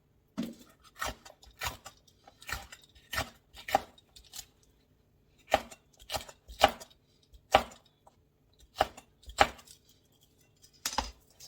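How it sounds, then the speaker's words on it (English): A knife chops prepared vegetables on a cutting board for weeknight vegan meal prep, sounding as irregular bursts of crisp, close thuds separated by short pauses. "Look how easy it is to just kind of chop those up if you need them smaller"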